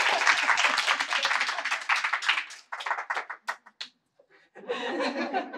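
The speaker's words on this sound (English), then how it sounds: "Can we just give my mum a round of applause?" Audience at an artist talk applauds the speaker's 91-year-old mother with loud, dense clapping and laughter that thins into scattered claps and a brief pause, then swells again.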